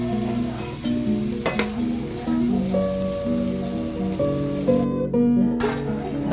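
Methi paneer masala fries in a pan with a constant close sizzle and crackle, stirring scrapes mixed in, and faint steady hum underneath throughout.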